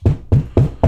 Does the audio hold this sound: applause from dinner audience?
no